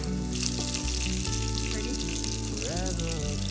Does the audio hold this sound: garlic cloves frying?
yes